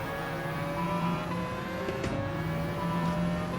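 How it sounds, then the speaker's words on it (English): A Mazda RX-Vision rotary engine races in a Gran Turismo Gr3 event at Lago Maggiore, a steady buzzing drone held throughout with faint shifts in pitch, no talking over it. "The sound of that RX Vision, the rotary engine, sounds absolutely superb."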